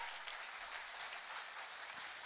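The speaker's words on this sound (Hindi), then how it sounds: "तालियां आपकी ओर से जोरदार हो" Audience applause at a launch event for a project-based learning education module in Ranchi, attended by a minister as chief guest; steady, dense clapping from a crowd fills the whole moment without a break.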